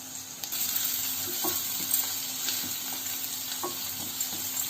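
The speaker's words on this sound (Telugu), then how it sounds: "ఈ హైలోనే పెట్టుకొని ఫ్రై చేసుకోవాలి, హై ఫ్లేమ్లో పెట్టుకొని" Chillies and spring onions stir-fry on high flame for restaurant-style chicken Manchurian, a steady loud sizzle with a high hiss and faint periodic scrapes of the spatula, close up and without speech.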